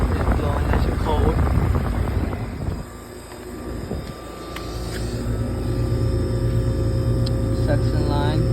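A 2007 1.5-ton XL14i heat pump runs in heat mode, giving a steady mechanical hum with a faint tonal whine. A person talks over it for the first few seconds, and then the unit drones on alone.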